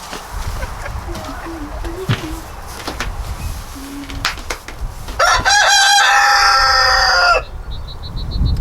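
Backyard flock in a homemade coop: soft hen clucks through the first seconds, then a loud, close rooster crow holds for about two seconds before it cuts off and quiet clucking returns.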